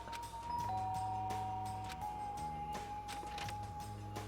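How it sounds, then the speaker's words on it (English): In the Danganronpa video game, a doorbell chime rings out over a looping, tinkly background melody, the tones holding clearly and evenly above the steady game music. "There's a doorbell next to the door."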